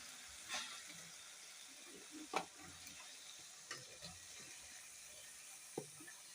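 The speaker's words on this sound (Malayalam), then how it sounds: "വലിയുള്ളിയും കറിവേപ്പിലയും കൂടി ഇട്ട് വെച്ചത് നല്ലോണം വറക്കാം" Onions and curry leaves fry in a pan with a quiet, steady sizzle, broken by a few sharp scrapes and taps as a spoon stirs them.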